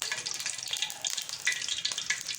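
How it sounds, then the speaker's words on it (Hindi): Samosas frying in hot ghee give a steady, dense crackling sizzle with brief bright pops throughout, close and fairly loud, with no talking. "नाज़रीन, घी गर्म हो चुका है। अब हम इसमें समोसा डालेंगे,"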